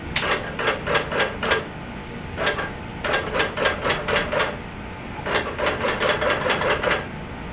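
Longarm quilting machine stitching down the side of a quilt, a steady rapid mechanical clatter running in three bursts with short pauses between, close and fairly loud.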